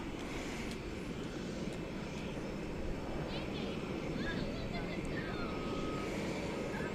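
Airplane at DFW Airport, a flight arriving from Salt Lake City: a steady, distant jet engine roar holding constant throughout, fairly faint, with a few faint tonal whines rising and falling over it.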